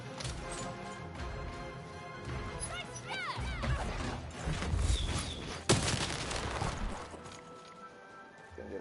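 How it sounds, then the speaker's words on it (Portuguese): A bomb goes off in the dark fantasy video game Lost in Random: one sharp, loud crash of an explosion rises out of busy game sounds and music, with a voice talking over the scene. "Ele explodiu a bomba."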